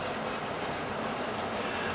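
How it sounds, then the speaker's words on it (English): A workshop heater runs steadily beside a mill, giving an even, continuous broadband whoosh and hum that holds the same moderate level throughout, with no talk over it. "well, I'm sorry, that's the heater"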